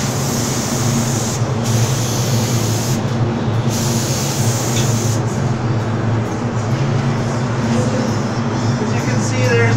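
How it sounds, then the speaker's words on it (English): A spray gun hisses steadily and loudly over a low motor hum while spraying doors, with a few brief pauses in the spray. "Now I'm going to spray these doors."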